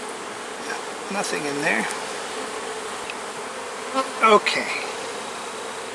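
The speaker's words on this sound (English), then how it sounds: "Look at that bee there." Honey bees buzz around a hive, a close, steady insect drone with a few louder passes near the end while a person speaks briefly over it.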